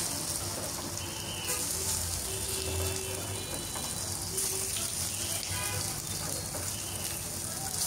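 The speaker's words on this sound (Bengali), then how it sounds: "এগুলো আমি লো আঁচে মুচমুচে করে ভেজে নিচ্ছি" Pumpkin flowers and lentil fritters fry slowly in oil over low heat, giving a steady, moderate sizzle with a faint background hum and some light clinking.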